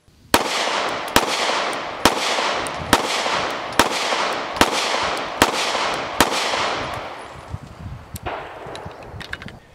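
About ten rapid pistol shots from a SCCY DVG-1 at a shooting range, sharp loud cracks at a fairly steady rhythm, each followed by a short echoing decay.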